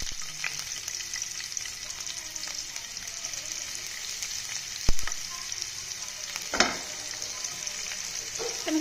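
Vegetables fry in oil with garlic for spaghetti pasta, giving a continuous close sizzle broken by two sharp clatters of a utensil against the pan.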